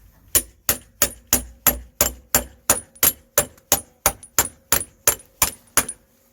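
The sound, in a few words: hammer tapping CV joint in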